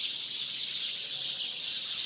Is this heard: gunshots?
no